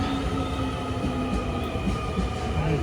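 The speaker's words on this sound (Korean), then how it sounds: "지금 마침 열차 왔네요" A train pulls into a Tokyo station platform, with a steady rumbling roar of rolling cars, faint wheel squeals and rail clatter filling the scene at close range.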